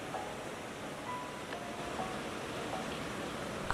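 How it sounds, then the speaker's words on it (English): Ocean waves at Bondi Beach, a steady soft wash of surf rolling in and out, faint and continuous with a hiss of wind and no voices. "I love the sound of the ocean waves as they come rolling in and out."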